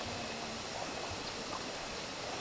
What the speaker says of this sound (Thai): สำหรับที่น้ำตกเซกัมปูนะครับก็จะเป็นน้ำตกขนาดใหญ่